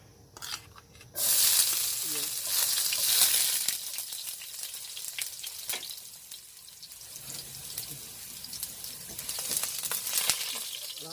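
Food frying in hot cooking oil for Filipino escabeche, a steady loud sizzle that jumps up suddenly and then simmers on with occasional crackles and clatter, with faint talk in the background.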